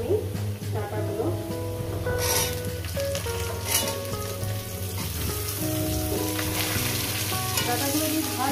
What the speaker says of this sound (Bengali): ডাঁটাগুলো দিয়ে ভাজবো আমি।